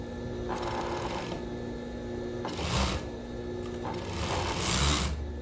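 Sewing machine stitching the strap seams of a bikini top, running in steady bursts with a couple of louder, faster runs near and alone.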